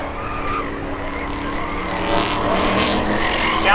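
A Chevrolet Vega launches hard in spectator drag racing at Seekonk Speedway, a loud close engine roar that rises in pitch and intensity as the car pulls away, with crowd and track noise in the background.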